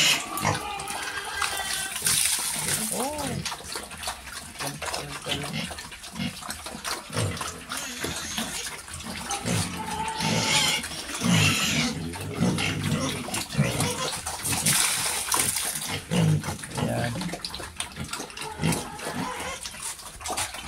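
Pigs grunting and squealing as they are fed on a backyard farm, with busy overlapping snorts and calls close by alongside splashing water, continuing steadily throughout.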